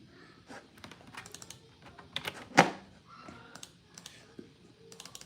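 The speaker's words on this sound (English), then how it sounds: "All y'all hearing me doing is clicking away." Clicking and typing on a computer keyboard, close and fairly quiet, with irregular bursts of keystrokes and one sharper louder click midway, no talking.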